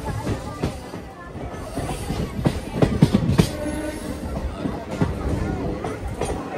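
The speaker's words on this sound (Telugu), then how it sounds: "ట్రాక్ చేంజ్ అవుద్ది ఇప్పుడు మన ట్రైన్ అటేపుకి" A DMU passenger train rolls over the tracks through a junction, heard from inside with steady rumbling wheel noise, a few squeals and clacks, and murmuring passenger chatter in the background.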